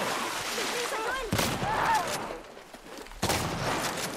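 Shotgun blasts in The Last of Us Remake on PS5, two sharp loud bursts spaced about two seconds apart over a busy combat scene with shouting voices and clatter.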